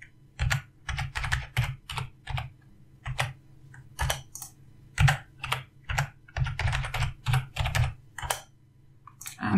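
A password being typed on a computer keyboard, sharp close key clicks in quick bursts with short pauses between them, steady and alone with no talking.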